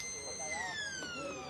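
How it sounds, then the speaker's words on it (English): A siren sounds to end the first quarter of an Australian football match, a long steady tone held under a commentator's voice. "And the siren"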